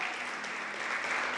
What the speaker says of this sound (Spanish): Dale un fuerte aplauso a Dios porque Él jamás falla